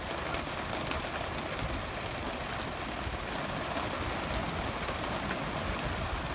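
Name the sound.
rain getting harder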